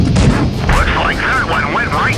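Tank cannon shots from the World of Tanks Blitz video game boom at the start of the clip, followed by wavering, whining tones over a steady rumbling game background.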